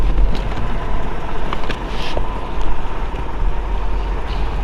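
A 1994 Chevrolet Corvette ZR-1 with the LT5 engine runs at a steady idle, a continuous low rumble with faint hiss above it and no voices.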